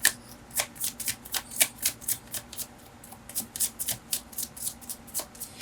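Tarot cards are shuffled close up in a quick, steady run of crisp riffling flutters and soft slaps, repeating for several seconds with no voice.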